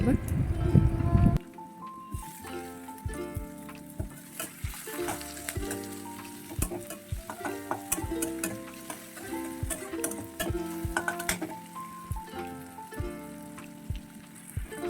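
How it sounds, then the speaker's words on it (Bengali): Chopped green chilli, onion, ginger and tomato sizzle and fry in a pan while being stirred slowly, steady crackling with repeated clinks of the spoon against the pan, preceded by a brief loud rustle at the start. "সব কিছুকে দিয়ে আস্তে আস্তে নাড়তে থাকবো"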